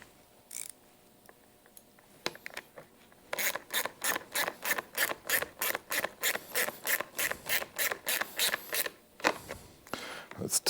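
Ratcheting a 10 mm metric bolt and nut tight on a Polaris Sportsman 700: a steady run of about twenty sharp, evenly spaced rasping clicks, close and fairly loud, after a few scattered knocks.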